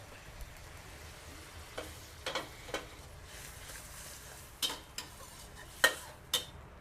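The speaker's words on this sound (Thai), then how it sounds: "เดี๋ยวเราจะมาเป็นเคี่ยวน้ำซอสพริกไทยดำกันนะคะ" Black pepper sauce, seasoned with oyster sauce, simmering in a pan as a spoon stirs it, with a faint quiet bubbling background and a handful of sparse scraping clicks.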